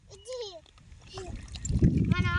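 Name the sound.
children splashing water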